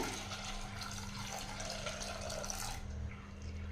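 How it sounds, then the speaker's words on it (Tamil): About two tumblers of water pour steadily into a pot of chana dal for about three seconds, a close splashing rush that stops abruptly, leaving a low background hum. "ஒரு ரெண்டு டம்ளர் தண்ணி சேர்த்திக்கலாங்க"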